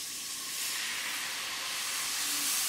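Milk poured into a hot pan while cooking a chicken sandwich filling gives off a broad, steady hiss and sizzle, fairly quiet and close, swelling slightly as it goes, with no talking.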